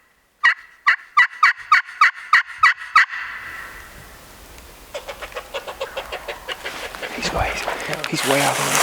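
Wild turkey gobbler in Tennessee gobbling on his own, a rapid series of about ten loud rattling gobbles followed by another fainter, more distant burst of gobbles under rising wind or movement noise.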